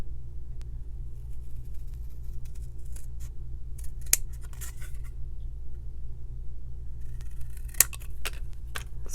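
Scissors cut a small paper rectangle for an envelope closure in a junk journal, making soft, steady snipping close by over a low background hum, with two sharp clicks.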